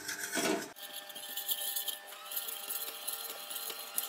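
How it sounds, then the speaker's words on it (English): An electric mixer runs at low speed, blending flour into a chocolate butter mixture for a Black Forest cherry cake. After a brief louder burst at the start, a quiet, steady motor whir continues alone. "with a mixer we're just going to slowly add our flour"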